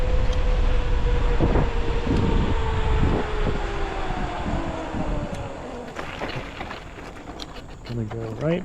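A train rumbles past close by with low rolling noise and rhythmic clacks, gradually fading, with a horn-like tone near the end.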